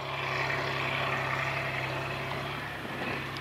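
A 1987 Kirovets K-701 tractor engine runs steadily with a loud, even, rumbling drone, close by and without any talk over it.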